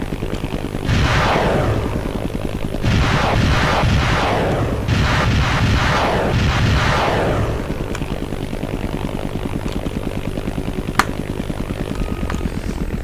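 Repeated whooshing rocket salvos fired from a strong combat aircraft during a strafing run in ArmA: Armed Assault, four broad roaring bursts over a constant droning engine hum, loud and close with no talk.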